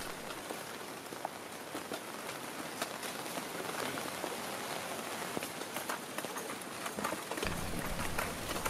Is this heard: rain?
yes